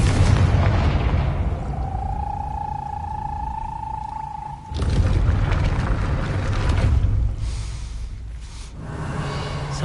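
A Confringo blast curse explodes in Hogwarts Legacy with a loud, deep booming burst mid-scene, preceded by a sustained magical tone and followed by rumbling, roaring ambience.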